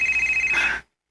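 A telephone rings in a radio drama, a loud, close, rapidly trilling bell that cuts off abruptly after under a second.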